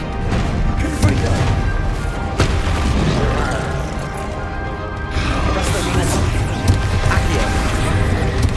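A Confringo fire spell cast in the video game Hogwarts Legacy, amid a loud, continuous wall of combat audio with repeated heavy booms and crashing impacts.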